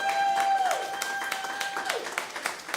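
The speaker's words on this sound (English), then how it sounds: "can we have another round of applause for Merritt, who just told us her life story?" Audience applause at a comedy show, a fairly quiet, steady patter of clapping with a sustained tone sounding over it.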